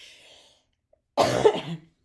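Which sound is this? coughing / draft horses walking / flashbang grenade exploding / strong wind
coughing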